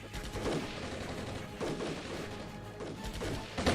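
Battle sounds from the wargame Armored Brigade: dense, distant-sounding gunfire mixed with heavier mortar impacts roll on steadily, swelling in several bursts over a constant rumbling background, with no voices.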